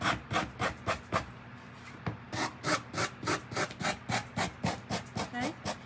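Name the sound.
sanding a pumpkin with a sanding block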